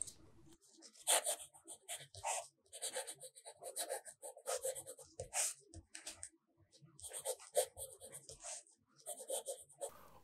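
Broad-nib fountain pen with Noodler's American Aristocracy ink scratching across paper, close and quiet, in continuous bursts of strokes with short pauses between words.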